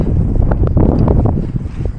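Strong wind roars and buffets the microphone on a snowy plateau by a remote lake in western Sichuan, loud gusty rumbling throughout with brief flapping sounds.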